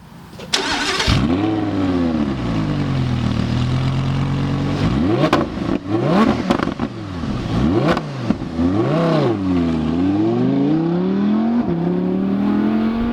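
An Audi R8 Spyder supercar fires up and revs hard, its engine note sweeping up and down through repeated loud, close blips and sustained pulls with no talking over it.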